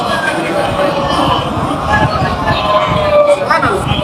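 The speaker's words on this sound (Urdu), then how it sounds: "مولانا کی صحت سلامتی کے لیے بآواز بلند نعرے صلوات" A large crowd at a religious mourning majlis loudly chants a salawat slogan in unison, a thick wall of massed voices holding steady throughout.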